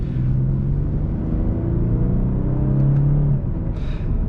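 The engine of a 2021 Lexus IS 300 AWD accelerates, a low steady rumble with a rising hum heard from inside the car, easing off near the end.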